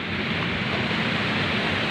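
Rough, churning sea waves make a dense, steady roar of surf that fills the whole moment without pause, with no voices over it.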